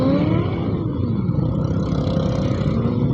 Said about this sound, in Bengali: আমারও বাইক স্টার্ট হয়ে গেছে।